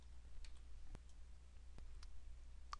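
A few sparse, faint computer mouse clicks, single sharp ticks spread over a few seconds against a low steady hum, with no talk.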